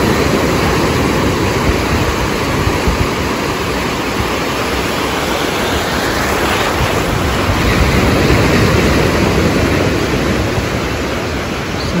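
Rough sea surf rolls steadily onto Nacpan Beach near El Nido, Palawan, in the Philippines, a loud continuous wash of breaking waves with heavy wind buffeting the microphone throughout.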